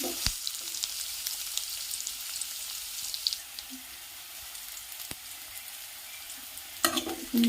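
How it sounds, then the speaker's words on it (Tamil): Chillies sautéing in a hot pan until brown, a steady close sizzle and frying hiss with occasional stirring scrapes and clinks, no talk. "நல்லா ப்ரௌன் கலராக வர வரைக்கும் நல்லா வதக்கிக்கோங்க."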